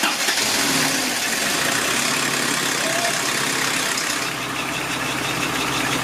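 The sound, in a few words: Toyota 22RE engine starting up in 1984 Celica GTS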